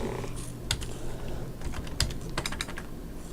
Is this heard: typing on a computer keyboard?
yes